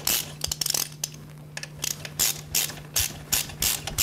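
A ratchet wrench runs bolts in while a BPP-100 is being installed, giving repeated bursts of quick, crisp clicks in an uneven rhythm, up close and clear over a steady low hum.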